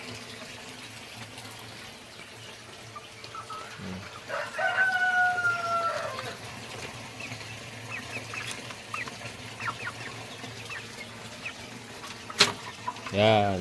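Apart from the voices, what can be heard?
chickens clucking and crowing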